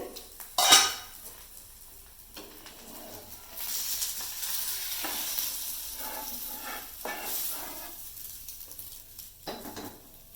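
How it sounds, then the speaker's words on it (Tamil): Three eggs frying in oil in a pan for a Tamil fried egg kurma, with a sharp metallic clink early on, then a moderate hissing sizzle that rises and falls alongside utensil scrapes. "அப்படியே 3 முட்டையும் பொரிச்செடுக்கேன்."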